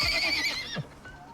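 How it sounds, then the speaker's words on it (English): A horse in the survival video game Icarus lets out a loud, close whinny that rises and falls for about a second, followed by a softer trailing snort, with no talk. "Hey, get out of here. Stupid horse."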